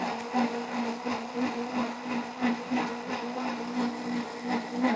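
A blender runs continuously, whirring through a hot tomato sauce with a steady motor hum, close and fairly loud, its pitch pulsing slightly as the thick sauce churns.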